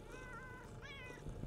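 Cats in a video game meow, giving two faint, drawn-out, wavering cries over a dense constant background rumble.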